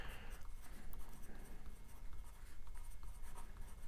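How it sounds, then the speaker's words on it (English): Equations written by hand in a statics physics lesson: continuous close scratching and tapping of a pen or pencil on paper, with quick irregular strokes and no talk. "we're going to write down our equations"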